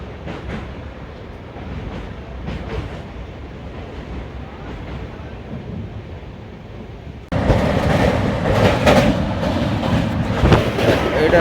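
The Bhubaneswar–Howrah Jan Shatabdi Express crosses the Birupa river rail bridge, heard from on board as a steady rumble with clickety-clack wheel beats that turns suddenly louder and harsher partway through, as if a window or door opened.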